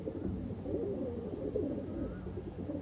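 Soft, murmuring coos from a flock of pigeons kept by a fancier blend into a steady, dense background hum, with no clear individual calls standing out.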